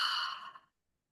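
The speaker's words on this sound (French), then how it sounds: "je prends une belle inspiration et j'expire avec la bouche" A single deep breath exhaled through the mouth during a guided relaxation, a close, breathy sigh that fades out after about two-thirds of a second and leaves silence.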